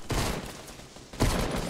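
Gunfire in the Fortnite video game: loud, dense bursts of rapid shots crackle continuously with a short lull before a second heavy volley.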